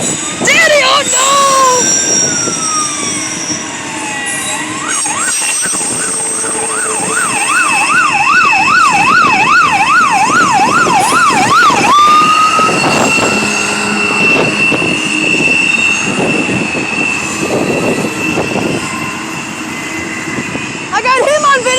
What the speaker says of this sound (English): I can hear some more sirens.